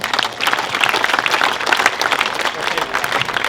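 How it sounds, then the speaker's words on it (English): Audience applause honoring a former Dodgers player from a championship team, a steady wash of many hands clapping at a fan event, loud and continuous throughout. "but let's hear it for Reggie Smith"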